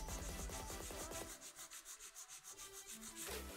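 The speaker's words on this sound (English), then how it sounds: "Holding the finger and the nail securely, file straight out from the nail groove" A long acrylic nail is filed in quick back-and-forth strokes, a soft rhythmic rasping heard very close and quiet, about a dozen even strokes in a row.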